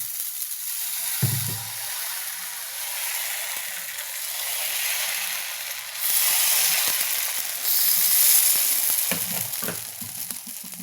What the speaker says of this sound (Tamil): நம்ம சட்னிக்கு மேட்சா தோசையும் ஊற்றிடலாம்